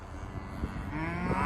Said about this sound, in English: They're mooing for the cat.